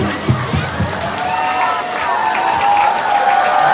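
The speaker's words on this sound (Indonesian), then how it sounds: "beri tepuk tangan buat kawan-kawannya yang udah berani maju" At a talk show event, an audience claps for participants who came forward, the scattered applause mixed with cheering, children's voices and general crowd noise at close range.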